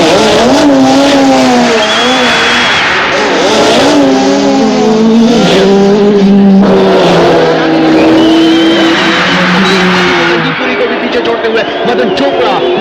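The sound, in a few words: race cars accelerating during a car race in the film Baazigar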